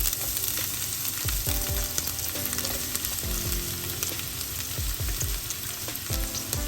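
Chopped garlic and shallots frying in sesame oil in a pan: a dense, steady sizzle runs throughout, broken by repeated scrapes and clacks of a spoon stirring close by, with no one talking.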